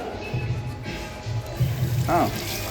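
An automatic sensor tap in a mall washroom runs in short bursts, a soft close splash of water under a voice speaking briefly nearby.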